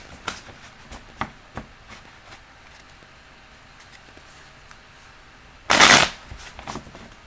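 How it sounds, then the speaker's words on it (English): Tarot cards are handled and shuffled close by, with scattered soft taps and flicks before a loud, brief riffle burst near the end, a few light clicks after it. "Okay, 2 more shuffles."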